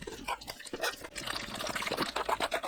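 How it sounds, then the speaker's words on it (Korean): Bottled water is poured little by little through a sieve to wash down ground young-radish kimchi seasoning, giving a soft, steady trickle and splash with light dripping, close up and fairly quiet. "생수 3리터를 조금씩 넣어가면서 양념을 씻어 내립니다"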